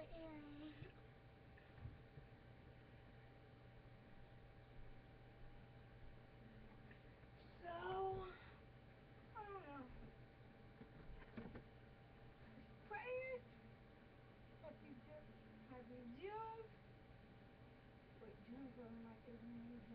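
A cat meows several times, soft and fairly close, spaced a few seconds apart over a quiet indoor hum.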